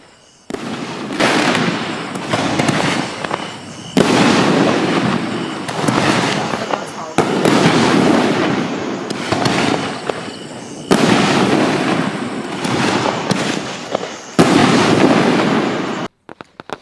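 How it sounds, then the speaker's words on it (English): Seven-inch red, white and blue canister firework shells bursting in a long, loud, dense barrage, with repeated crackling explosions and roaring bursts that cut off sharply between volleys, voices faintly mixed in. "America AF 7-inch red, white, and blue canister shells."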